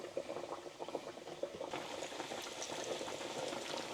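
Pork chops frying in hot oil at about 360 degrees, three at a time, give a steady bubbling hiss with dense crackle, close and continuous throughout with no talking.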